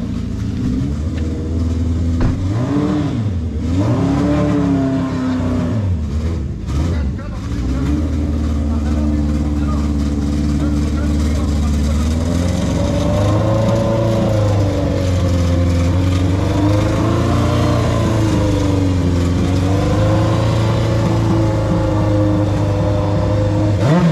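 A six-cylinder Honda CBX 1050 motorcycle engine runs loud and close, rising and falling through repeated revs over a steady idle, with voices partly under it.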